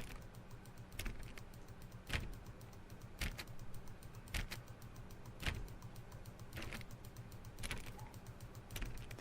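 Crisp, evenly spaced computer mouse clicks while playing The Stanley Parable, roughly one each second, close up over a faint background hum.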